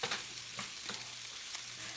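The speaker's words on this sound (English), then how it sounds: "So now that's going to saute" Rustic Italian chicken sauteing in a pan on medium heat, a faint steady sizzle with light stirring ticks and one small clink, no speech.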